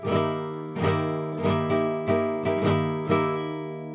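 Repeated rasgueado strums on a guitar ring out loud and close, about six sharp attacks in a steady rhythm, each letting the dissonant chord sustain.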